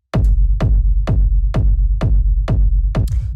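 Punchy, hard-hitting techno kick drum sample, seven loud evenly spaced thumps with booming low tails repeating steadily, heard alone.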